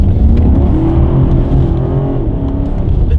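An all-wheel drive BMW Alpina B7 on winter tires accelerates hard on a damp road at 9 degrees, the engine roaring loud and close with a rising tone that holds, then eases near the end.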